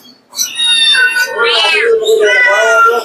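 An adult male pet cat, litter-trained, meows loudly and up close in several drawn-out, wavering calls, one after another with barely a pause.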